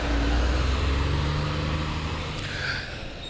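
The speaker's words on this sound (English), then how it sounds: "FedEx truck making a bunch of noise right now." A FedEx delivery truck rumbles close by with a loud, steady engine drone that eases slightly toward the end, with no talking.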